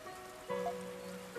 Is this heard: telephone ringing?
no